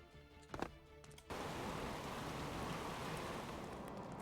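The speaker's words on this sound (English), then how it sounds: "rainy, but not too bad." Rain in the Stormworks: Build and Rescue game sets in as a steady, even hiss after a brief quieter start with a few soft knocks, holding at low volume with no voices.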